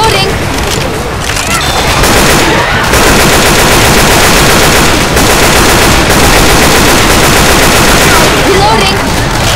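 Rapid automatic gunfire from a realism-style shooter video game set in Canada, loud continuous bursts of shots and booms filling the whole stretch, with a player's voice talking over the action.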